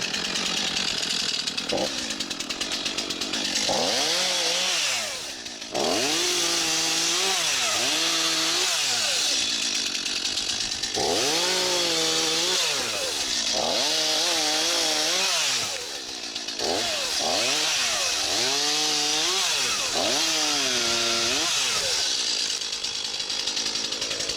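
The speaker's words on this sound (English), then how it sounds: "First go on the chainsaw, let's have a go." A new chainsaw runs steadily and close by, its engine pitch rising and falling in repeated surges as it revs and bites into branches.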